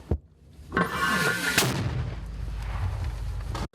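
A single sharp, loud mortar launch booms close by on a battlefield in Toretsk, Ukraine, followed by a long rumbling echo that slowly fades.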